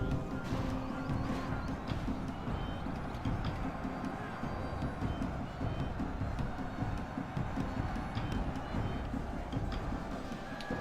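Horse hooves clip-clop steadily amid a dense, continuous rumble of battle activity in a video game, with faint voices mixed in.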